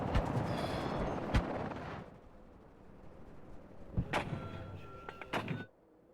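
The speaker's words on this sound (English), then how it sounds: "Yep, that's a lot of mortar fire." Mortar fire in the WARNO strategy video game, several sharp booming blasts with rumbling tails, loud near the start and again in a cluster toward the end, separated by a quieter lull.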